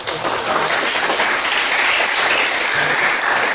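A class of high school students in a classroom claps together, dense and loud, a steady continuous patter from many hands close by with no talking over it.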